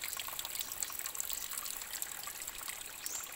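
Fresh water trickles and flows along a small stream used for household washing and cooking, a continuous bright babbling close by with no voices over it.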